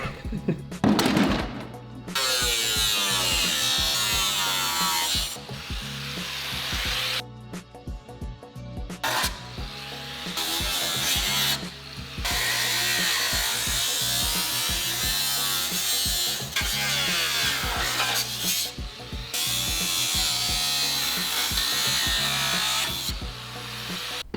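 A power cutting tool slices through an aluminum car hood in a home garage, a steady loud grinding whine that runs in long passes broken by a few short pauses.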